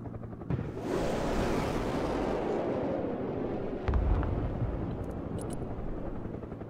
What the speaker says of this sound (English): my helicopter.